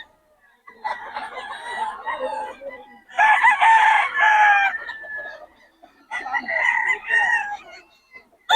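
Young stag rooster crowing at a gamecock market in Bocaue, three loud, close, drawn-out crows separated by short gaps, with market background low beneath.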